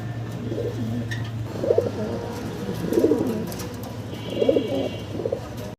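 Pigeons coo softly in repeated low, throaty phrases about every second and a half, over a steady background hum.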